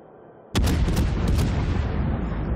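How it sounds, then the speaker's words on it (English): Naval gunfire from the Des Moines cruiser in a naval battle game: a sudden loud boom opens a dense, rumbling barrage of overlapping shots and explosions that stays heavy and continuous, with no talking. "I have no other option other than to start shooting"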